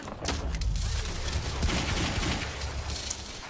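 Gunfire and explosions from the Quantum Break video game, a dense, fairly loud barrage of shots and booms rolling together over several seconds with no speech.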